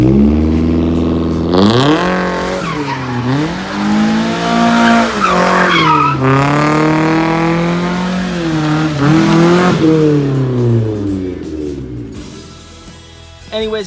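A slammed Mazda Miata with a welded rear differential skids around, its engine revving up and down in loud, rising and falling sweeps, with tire noise layered in throughout.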